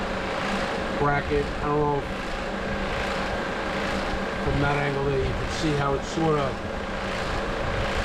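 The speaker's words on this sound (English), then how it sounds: "So excuse the electric fan noise" An electric fan whirs steadily in a garage while a car's alternator and its bracket are examined; the broadband hum runs the whole time beneath a man's close, ongoing talk.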